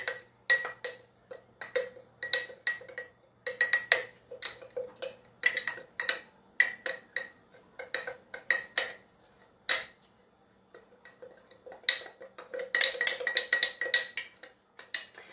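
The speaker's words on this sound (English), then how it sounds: "Get a spoon, give it a nice little stir until the flour is mixed in" A spoon stirs flour into a mixture in a bowl, making rapid irregular clinks and ticks against the sides, close and fairly quiet, with short pauses and a denser burst of scraping near the end.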